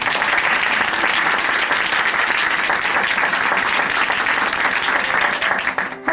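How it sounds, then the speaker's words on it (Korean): Sustained applause from a church congregation at Chuncheon Hanmaeum Church closes a testimony program, steady and dense clapping that fills the room for several seconds before tapering slightly at the end. "다시 한번 박수 보내드리겠습니다"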